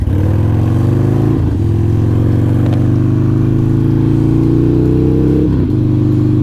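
A Harley-Davidson Sportster converted from Iron 883 to a 1200 big bore kit runs on a dyno, giving a loud, close, continuous loping idle with two brief throttle blips and no talk.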